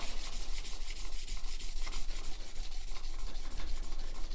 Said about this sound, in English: So we'll get the 1000 grit wet and dry. Take that burr off.